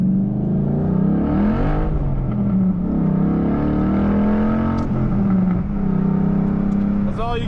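A 2012 Ford Mustang Boss 302 with resonator delete, sidepipe and SLP Loudmouth axleback exhaust revs loudly and close on a wet road, its engine note swelling and falling in repeated surges, with a voice briefly present.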